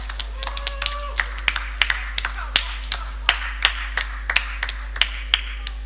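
Sparse, uneven clapping from a small audience at a judo spring tournament medal ceremony in the KA sports hall, with a dozen or so distinct, fairly close claps in a loose, irregular rhythm and no talk.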